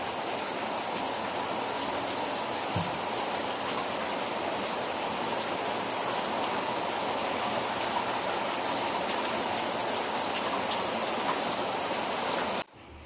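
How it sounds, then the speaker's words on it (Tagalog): Heavy rain falls steadily outdoors as a dense, continuous hiss of drops pounding surfaces, close and loud, with no letup until it cuts off abruptly at the end. "habang malakas ang ulan"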